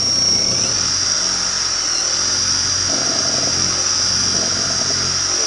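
A Ryobi power drill whipping cream, whirring at a steady high pitch, loud and continuous with a faint low rumble underneath.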